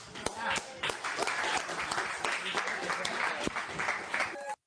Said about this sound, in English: they gave him a bigger clap than what I thought